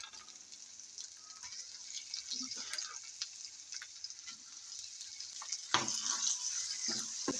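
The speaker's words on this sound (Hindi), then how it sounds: "इसको भी घी में हम अच्छी तरह से भूनेंगे ताकि हमारे जो टमाटर है वो सॉफ्ट हो जाए" Tomatoes frying in ghee in a pan while cooking chana daal, a faint, steady sizzle with soft crackles and occasional stirring clinks, growing slightly louder near the end.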